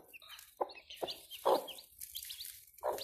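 Turkey hens in a chilly indoor spot during winter give soft, scattered clucks and short throaty calls, several in about three seconds, heard close but fairly faint, with no voices.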